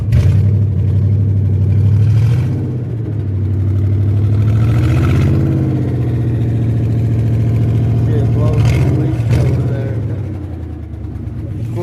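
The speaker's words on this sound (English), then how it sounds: "if you rev it up, it's a little bit loud, but it's not real bad when you're just sitting there idling" A car engine idles with a deep, steady rumble, swelling into a couple of brief revs before settling back, loud and close, with a person talking over it.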